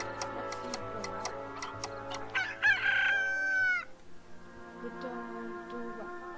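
A rooster crows once in the video game Slime Rancher, a loud close cock-a-doodle-doo standing out over a regular ticking pulse and a soft in-game music bed.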